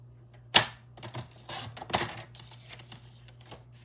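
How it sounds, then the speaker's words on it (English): A paper trimmer slices through Stampin' Up! cardstock with a sharp snap followed by a quick run of close, dry clicks and scrapes, no one talking. "Now instead of scoring, we're going to be cutting it just like that."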